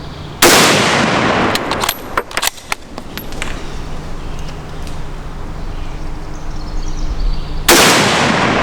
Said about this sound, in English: We're going to take it outside and run 20 rounds through it.